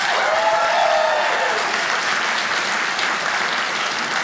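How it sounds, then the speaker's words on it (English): A comedy club audience breaks into loud, sustained applause, a thick continuous roar of clapping that holds steady and slowly tapers, with a brief whoop near the start. "Applaud if you're under 50."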